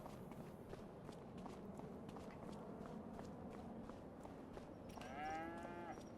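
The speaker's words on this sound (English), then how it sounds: "140 cows in this building." Cows in a large livestock barn in Farming Simulator 25, a building said to hold 140 head, shuffle and step steadily, and one clear, drawn-out moo rises near the end over the constant shuffling.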